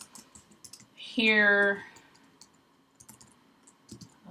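Sparse, faint clicks of someone typing code on a computer keyboard come and go, with a brief voiced sound and a person talking briefly.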